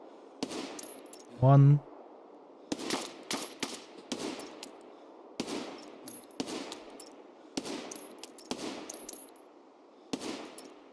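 Gunfire in the video game Escape From Tarkov, with a series of sharp, fairly quiet shots spaced irregularly every second or so, some in quick pairs, and a brief spoken word early on.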